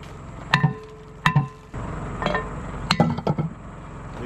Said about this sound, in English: right now I'm gonna take the hammer and go ahead and separate the hub from the drum.